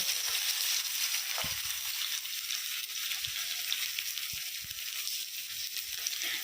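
Steady, dense sizzle of chopped onions frying in a pan for a meat dish, with a few soft low knocks from stirring scattered throughout.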